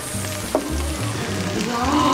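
Dolsot bibimbap sizzles in a hot stone bowl, a steady close crackle and hiss running under faint clinks, with no talk.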